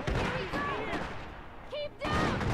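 Gunfire in the video game Iron Harvest, loud bursts at the start and again near the end, with voices talking in between and over the shots.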